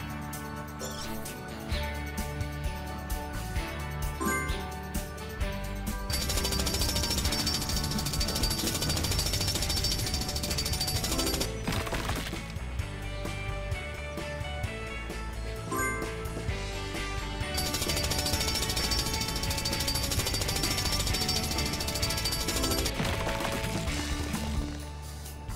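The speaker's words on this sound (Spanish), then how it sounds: "Ayuda a Rubble a usar su taladro para despejar el camino." A cartoon pup's drill breaking up a rock in the PAW Patrol Mighty Pups video game, heard as a long, loud, rapid hammering rattle under layered game music, swelling and easing in bursts with no talk.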